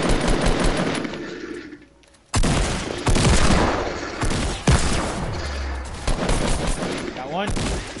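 Loud bursts of automatic gunfire in a shooter game rattle near and close, broken by a brief lull before the shooting resumes, with voices talking over it.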